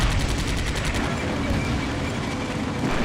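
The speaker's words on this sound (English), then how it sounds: "it's just a brutal firefight. Machine guns and mortars." Combat Mission: Beyond Overlord battle at Carentan with machine guns and mortars, heard as a dense, continuous wash of gunfire and rumbling explosions with no pauses throughout.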